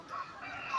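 Chickens clucking and murmuring softly while being fed harvested sweet potato leaves, a brief, fairly quiet flock sound at close range.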